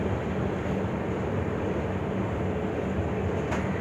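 Steady, moderately loud rumble of a moving passenger train, the Mahua Express, heard from inside as it nears Vapi station, with continuous rail and carriage noise and no talk.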